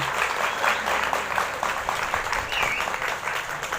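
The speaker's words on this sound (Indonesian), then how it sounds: "Tepuk tangan untuk kita semua." Continuous clapping from a crowd at a school Independence Day ceremony, a dense, even roar of hands that holds steady for several seconds without talk.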